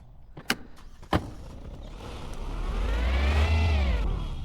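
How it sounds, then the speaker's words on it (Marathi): A car in the video game Money Simulator: two sharp door-like clicks, then an engine sound that swells and sweeps in pitch as it revs, loud and close, with no talking. "गाडी तिथं आहे सुब्बू शेठ."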